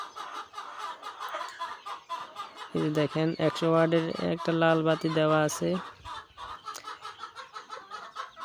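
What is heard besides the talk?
chicken or quail chicks chirping under a heat lamp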